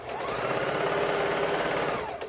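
A sewing machine runs steadily at speed with a fast, even mechanical whir of stitching, close up and uninterrupted.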